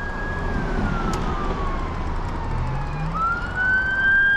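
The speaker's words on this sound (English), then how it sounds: "Let's wait for this ambulance to go by." An ambulance siren wails past under heavy road and wind rumble, its tone sliding steadily and then jumping back up as the vehicle goes by, loud and close.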